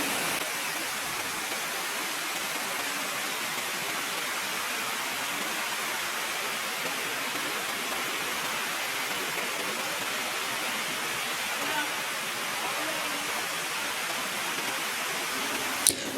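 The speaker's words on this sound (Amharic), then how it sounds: "ወደ ዋናው ፏፏቴ መጥተናል" The Chila Anqua waterfall near Debri, close to Mekelle, pours down in a loud, constant broadband roar that stays even and unbroken throughout.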